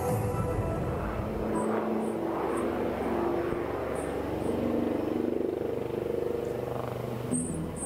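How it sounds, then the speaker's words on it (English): An armed military helicopter flies a steep turn at an Indian Air Force anniversary display, giving a steady, loud engine and rotor drone that holds for several seconds with no break. "Keep looking as the helicopter turns to carry out a steep turn again."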